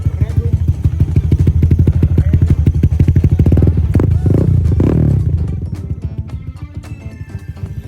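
A motorcycle engine freshly fitted with a new cylinder head revs hard up close, its rapid firing pulses rising and then easing back to a steadier idle, with a voice speaking briefly over it.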